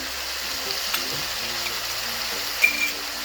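Chicken stew with turmeric and black pepper fries in a pan, a steady sizzle with soft scraping stirs and a brief clink near the end.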